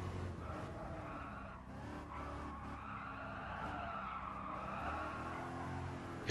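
A race car slides through a corner in Gran Turismo Sport, tyres squealing and skidding continuously over a steady engine roar, fairly faint throughout.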